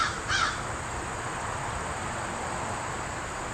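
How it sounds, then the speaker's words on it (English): Outdoors before rain, a crow gives one brief caw near the start over a steady hiss of insects and background noise, distant and fairly faint. "You can hear the birds calming down and not chirping as much because the rain's coming and the thunder."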